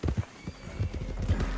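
Horse hooves clip-clop in an uneven trotting rhythm in Red Dead Redemption 2, with a short whinny mixed in, close and fairly loud, under game ambience.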